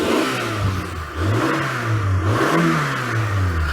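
Generator engine suspected of early head gasket failure being revved, a loud, close mechanical drone whose pitch rises and falls in a couple of revving swells over a steady engine hum.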